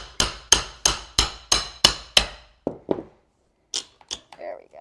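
Prying wooden baseboard off a mid-century modern kitchen wall during a DIY demolition, heard as about seven sharp, evenly spaced hammer-like strikes, followed by a few softer knocks and brief cracking or scraping sounds.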